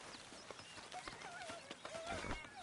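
Horse hooves clip-clop in Red Dead Redemption 2, a quick, uneven patter of steps mixed with other game sounds while a voice speaks over them.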